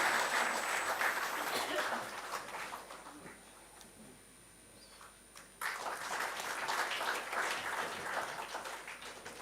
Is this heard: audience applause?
yes